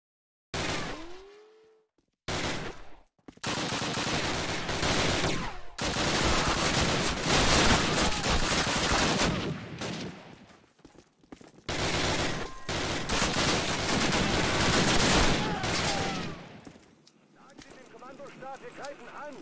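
Video game gunfire rattles out in long, loud automatic bursts separated by short pauses, and a player talks over parts of the shooting.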